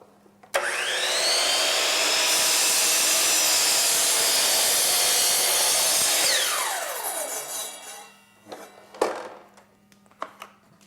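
Miter saw spinning up with a rising whine, then cutting a workpiece clamped in a 45-degree jig as a loud sustained scream, winding down afterward, followed by a few knocks and clatters.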